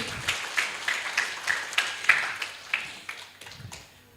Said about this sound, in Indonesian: Boleh kita berikan tepuk tangan yang paling meriah untuk Dr.